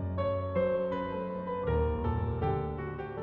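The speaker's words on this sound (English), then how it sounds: "And then you can generate the accompaniment, in this case, some film music." AI-generated film music accompaniment under a simple melody, layered sustained chords and bass with the tune on top, quiet and continuous with no voices.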